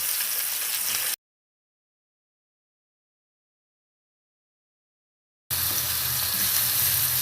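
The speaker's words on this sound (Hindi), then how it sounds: "दोनों साइड से हल्का सा फ्राई करके तो हम इसे निकाल लेंगे।" Eggplant slices fry in a pan with a steady, hissing sizzle of oil, which drops out completely for several seconds in the middle and then returns just as strong.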